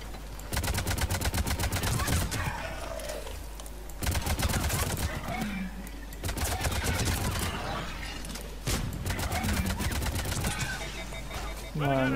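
Bursts of rapid alien gunfire in the video game Mass Effect 3 rattle out in several long volleys separated by short pauses, with a voice speaking over parts of the shooting.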